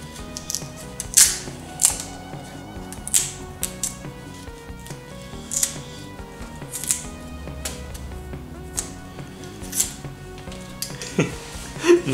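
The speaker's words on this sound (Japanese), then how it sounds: "あとはナイフで削ります。" A knife shaves and whittles a thick stem for a flower arrangement that includes broccoli, giving repeated close scraping and crisp cutting strokes in irregular bursts, with no talk over them.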